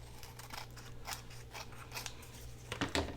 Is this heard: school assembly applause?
no